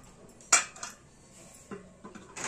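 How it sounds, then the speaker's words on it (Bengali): A lid set down on a pot of boiling water while cooking Bengali basanti pulao gives one sharp close metallic clink, followed by a few softer knocks and small rattles as it settles. "আমরা এই সময় ঢাকাটা দিয়ে দেবো"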